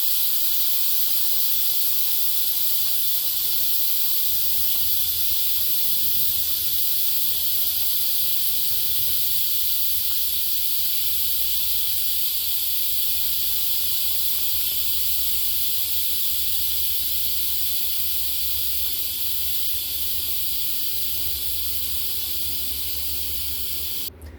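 A pressure cooker vents steam in one long, steady, loud hiss that holds unbroken for over twenty seconds, close by, with a faint low rumble beneath and no talking.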